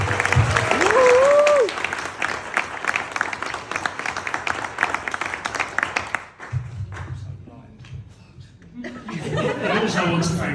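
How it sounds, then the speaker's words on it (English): Guests at a wedding reception applaud the chefs, a loud burst of clapping mixed with chuckles and laughter that fades after about six seconds. A voice then murmurs over scattered claps before chatter and noise rise again. "I think they all deserve a round of applause."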